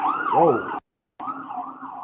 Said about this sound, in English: where are those sirens coming from?